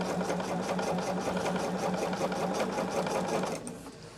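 A sewing machine runs at a fast, steady rhythmic stitch through quilting cotton, close and mechanical, slowing and fading near the end.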